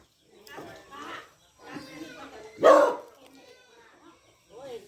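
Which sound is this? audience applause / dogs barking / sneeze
dogs barking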